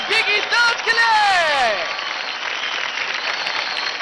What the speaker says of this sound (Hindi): जोरदार तालियां हो जाए बिकी दास के लिए